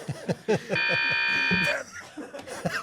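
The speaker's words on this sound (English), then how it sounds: "Buzzer." A game show buzzer sounds once for about a second, a loud steady electronic tone, amid laughter and quick talk from a panel comedy show.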